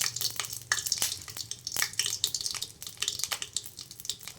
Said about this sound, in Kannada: ಅದಕ್ಕೆ ಎಣ್ಣೆ ಕಾದಿರೋದಕ್ಕೆ ಸ್ವಲ್ಪ ಸಾಸಿವೆ ಹಾಕೋತಾ ಇದ್ದೀನಿ